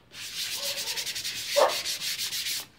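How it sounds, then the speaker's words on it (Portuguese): Wall sandpaper rubbed over a vase made from a glass bottle, a steady series of rapid back-and-forth scratchy strokes, close and continuous with no voices. "Agora vamos dar um acabamentinho com a lixa"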